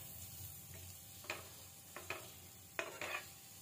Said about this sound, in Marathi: जो कांदा कट करून ठेवला होता तोही आपण याच्यामध्ये ॲड करून घेऊया। कांद्याचा देखील कच्चेपणा जाईपर्यंत कांदा आपण परतून घेणार आहोत।